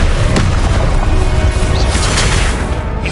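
A Confringo blasting-spell explosion, a loud, dense booming crash with heavy low rumble and crackling debris that fills the whole moment before easing slightly at the end.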